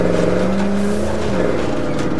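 A car drives in the video game State of Decay 2 while low on fuel, with a loud, continuous engine drone and a steady roar of tires throughout.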